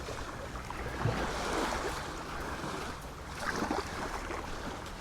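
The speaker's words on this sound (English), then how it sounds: "the waves are coming in and out" Sea waves roll in and out on Ruby Beach at Elie in the East Neuk of Fife. The surf makes a continuous, fairly loud rushing wash that swells twice, with no voices over it.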